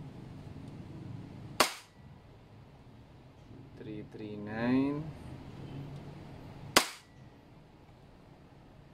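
Two crisp, loud shots from an EMG Taran Tactical Pit Viper gas blowback airsoft pistol, spaced about five seconds apart, with someone briefly speaking a number between them.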